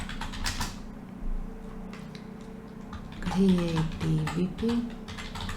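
Typing on a computer keyboard, light rapid key clicks scattered throughout, with someone speaking over the later part.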